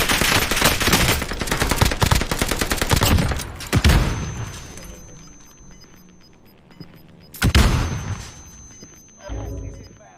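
Rapid automatic gunfire crackles loud and close in the shooter game Warzone Pacific, a dense burst of shots that trails off, followed by a second sharp volley and a few scattered reports, with no talk over it.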